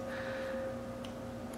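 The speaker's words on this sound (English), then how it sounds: "I'm sorry if you hear our air conditioner on in the background" An air conditioner runs in the background: a steady low mechanical hum with a faint tonal whine drones continuously, quiet and unchanging, with a couple of faint ticks.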